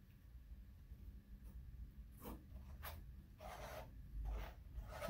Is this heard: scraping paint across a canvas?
yes